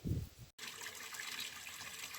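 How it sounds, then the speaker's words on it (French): Spring water pours from a village fountain, a soft continuous splashing and gushing stream heard close by and fairly quiet, after a brief low thump at the start. "Là c'est l'eau de la fontaine, c'est une eau de source qui sort à 8 degrés."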